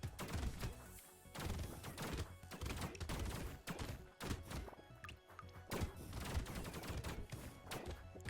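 A chain gun firing in a video game, rapid repeated thumping bursts with sharp transients that surge and pause across the clip, loud and close with no talking.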